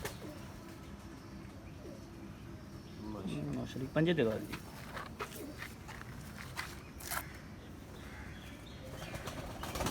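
An English-bred fancy pigeon held by a breeder gives a brief throaty coo with some wing flutter midway, amid handling noise, while someone talks throughout.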